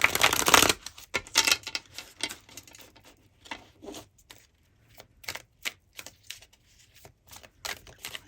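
Tarot cards being shuffled by hand, a dense burst of riffling at the start followed by a run of soft, irregular flicks and taps of cards, close and moderately loud with no talking.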